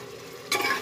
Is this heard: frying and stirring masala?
yes